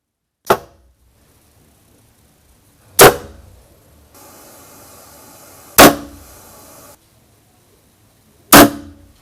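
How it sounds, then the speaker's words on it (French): Four suppressed gunshots are fired one by one into canned ballistic gel, each a sharp, loud crack with a short decay, spaced a few seconds apart, with a quiet steady hiss between the third and fourth shots. "cette fois-ci, 4 tirs avec le silencieux"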